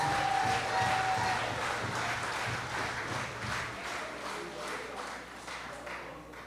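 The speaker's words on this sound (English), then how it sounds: "you should give yourself a round of applause" A crowd claps in a dense patter that gradually thins and fades over several seconds.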